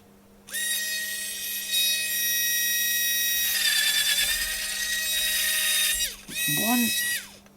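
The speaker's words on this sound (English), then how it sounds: "I'm just going to use my little battery drill" A small cordless drill whines at high pitch in long bursts while drilling holes in a circuit board, its motor revving up and down, with a brief pause before a final short spin.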